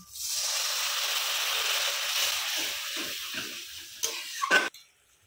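Water poured into sizzling spice masala in a pan for an egg biryani sets off a loud, steady hiss that slowly fades, followed by a couple of clattering utensil knocks before it cuts off.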